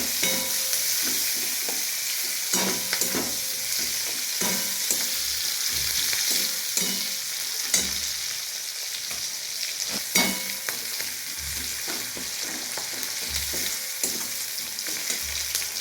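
A large chopped onion frying in oil in a pan as a pomfret curry begins, with steady close sizzling and repeated scraping stirs from a spatula throughout, no voices.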